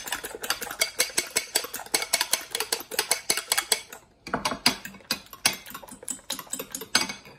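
Eggs are whisked in a bowl for a milk and egg pie, a fast run of rhythmic metallic clinks and taps against the bowl with one brief pause partway through, close and clear with no talking.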